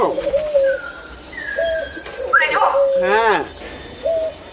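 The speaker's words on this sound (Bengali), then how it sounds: "ময়না, তুমি ভিডিও করতে নিলে সব সময় এরকম দুষ্টুমি করো।" A pet myna bird calls close by in a series of sharp whistles, squeaky rising and falling notes and a harsh chattering burst, alternating with brief pauses.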